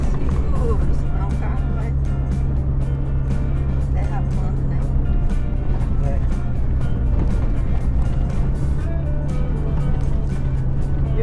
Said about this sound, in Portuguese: Olha o motor aqui descendo aí.